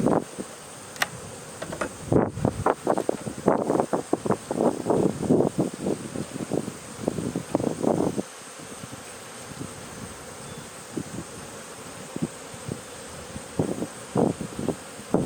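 Honey bees buzz near a hive during a fall inspection in October. The humming drones come in close, overlapping passes and are dense for the first half, then thin to sparse, fainter buzzes.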